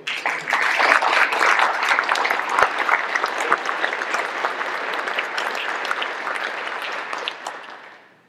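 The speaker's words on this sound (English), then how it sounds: "If you want, you can give them a round of applause" An audience at a Frederick County Executive candidate forum gives a full round of applause, a broad sustained wash of many clapping hands that swells quickly and then tapers off near the end.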